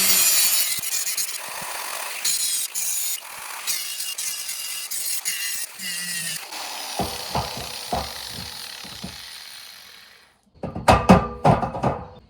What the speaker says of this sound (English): we just need to grind the paint off of this